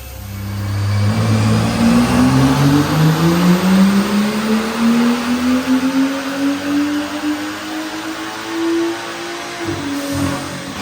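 A BMW F10 535i with the N55 engine, tuned, revs hard through a full pull on a dyno, its loud engine note climbing steadily for about ten seconds before easing off near the end, heard up close with no talking.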